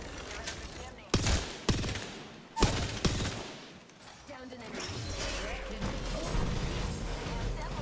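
Rapid gunfire from weapons in the Apex Legends video game, several sharp loud bursts early on, then a denser continuous barrage of shots and game noise, with a voice speaking over parts of it.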